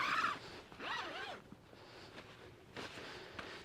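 Full-length zip on a UGQ Outlaw down quilt being worked by hand: a few close, soft zipping rasps, with brief pauses between the pulls.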